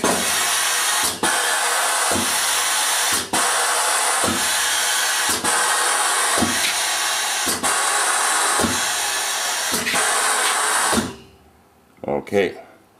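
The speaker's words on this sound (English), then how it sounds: "You'll actually hear the machine slowing down because we only have a small dinky compressor here, and she's running out of air" An air-driven fluid mixer fed by a small compressor roars with a loud, steady hiss broken by regular periodic thumps, then cuts off abruptly near the end, leaving a few faint knocks.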